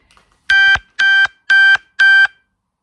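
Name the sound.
mobile phone alert beeping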